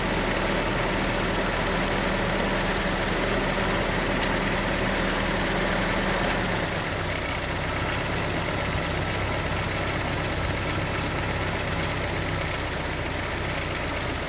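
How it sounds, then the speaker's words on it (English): Datsun 620 engine idling with a Weber 38 carburetor, a steady low rumble that shifts in tone about halfway through as the idle changes, continuous and alone. "then you hook it back up, hear it idle back up"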